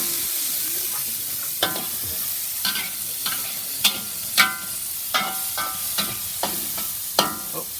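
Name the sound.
onion and ginger frying with Indian spices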